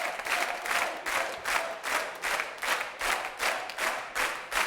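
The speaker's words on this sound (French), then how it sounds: "Je voudrais qu'on applaudisse Léon qui remonte à égalité." Studio audience on a French TV game show applauds contestant Léon, steady rhythmic clapping in unison, pulsing beats roughly twice a second, loud and full with faint crowd noise underneath.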